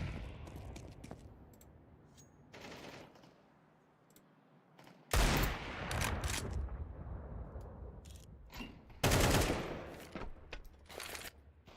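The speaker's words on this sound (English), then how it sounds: "there's a couple deagle headshots" Desert Eagle pistol shots in a competitive first-person shooter match, a few sharp loud bursts with clicks and game effects between them, no talk.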